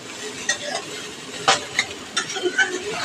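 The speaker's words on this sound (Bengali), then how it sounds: "এইদিকে দেখো ভাত ভাজা" Rice is fried and stirred in a pan, producing a steady low sizzle with irregular scraping clatters of the spatula against the metal, close by and moderately loud, with no talking.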